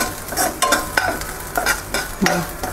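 Samak rice (bhagar) roasting in ghee in a pan for vrat kheer, stirred with steady rhythmic scrapes about twice a second over a soft, continuous sizzle, close up.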